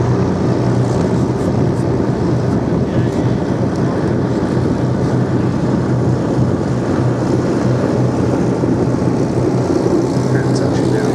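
A Curtiss P-40F warplane comes in to land on grass at the Duxford Battle of Britain air show, a steady loud low engine drone mixed with wind buffeting and a commentator's voice.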